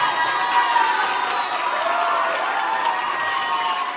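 A room of tuition-class students erupts in loud, sustained cheering and applause, with excited shouting children's voices layered over clapping, steady and close throughout.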